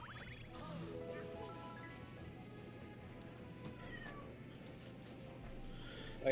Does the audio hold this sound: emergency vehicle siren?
no